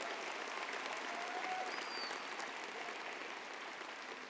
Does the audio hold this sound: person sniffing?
no